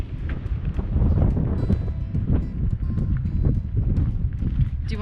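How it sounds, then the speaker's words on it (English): Strong gusty wind blasts the microphone outdoors on a dirt road, a loud continuous rumbling roar that swells and dips over several seconds, with no clear talk over it. "It is breezy."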